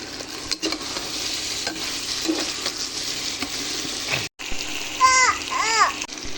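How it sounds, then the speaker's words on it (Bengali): Beef tripe stirred into sizzling masala in a pan, a continuous frying hiss with scraping strokes; a brief high chirping voice-like sound near the end. "এবার আমি গরুর বট বা বুড়িটা দিয়ে দেবো।"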